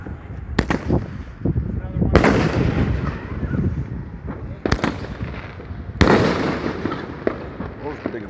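Big Fourth of July fireworks burst with loud, booming explosions at irregular intervals, each followed by crackling and rumbling echo, while family members talk and exclaim over them.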